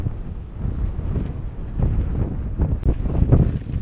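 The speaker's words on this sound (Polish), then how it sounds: "bo naprawdę tak wieje" Strong, cold wind buffets the microphone outdoors with low, rumbling gusts that swell and ease, loud and unbroken, with no talking.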